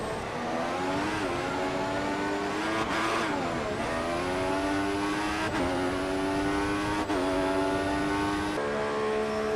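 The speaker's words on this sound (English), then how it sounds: "Hamilton has a half-hearted look down the inside of us here on the DRS straight" Formula 1 race car engine in the F1 2014 racing game on the Russia circuit, a loud continuous high-pitched whine that rises and drops with gear shifts, steady and close throughout.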